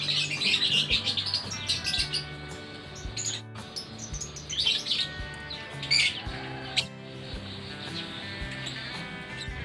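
Young lovebird chicks keep up busy, high-pitched chirping and cheeping close by, in dense overlapping bursts with only brief pauses.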